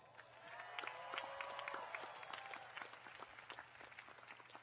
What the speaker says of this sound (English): let's give these champions who have been in your corner for years a big round of applause